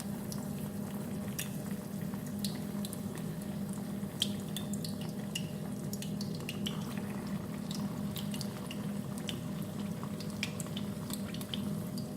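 Shami kebabs dipped in beaten egg fry in a pan, a soft continuous sizzle dotted with small crackles and pops, steady throughout and free of speech.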